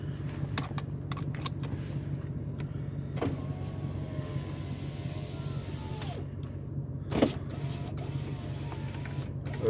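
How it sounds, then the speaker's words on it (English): A truck's passenger-side power window opens with a steady motor whir over a constant low engine idle inside the cab, with a few light clicks and a brief thump near the end. "Open up that passenger side window so y'all can hear it."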